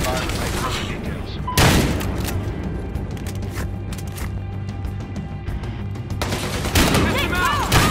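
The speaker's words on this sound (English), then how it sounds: "I heard gunshots!" Rapid bursts of gunfire crackle over a dense, noisy Battlefield Hardline game soundscape, with sharper loud shots standing out near the start and end.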